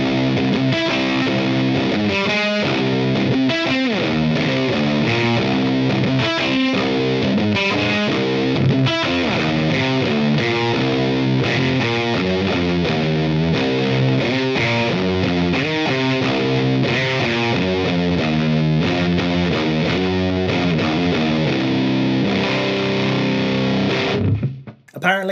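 Heavily fuzzed electric guitar played through a fuzz pedal into an amp, with a phaser pedal placed after the fuzz, sustaining thick saturated chords and riffs, loud and continuous for about twenty-five seconds before cutting off abruptly.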